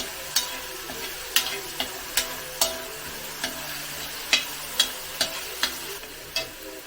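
Ginger and garlic frying in ghee in a pan, a continuous close sizzle broken by about a dozen sharp spoon scrapes and taps at an uneven, roughly half-second pace, with no talking.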